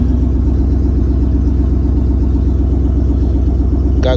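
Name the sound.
Chevy Suburban or Chrysler 300C engine running loudly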